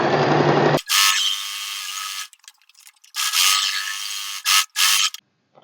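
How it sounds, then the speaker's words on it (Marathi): A sewing machine runs a straight stitch through salwar fabric in loud, close bursts, starting and stopping several times with brief silences between runs. "सगळ्यात पहिला तर मी स्ट्रेट स्टिच करते, एकसारखं माप ठेवून."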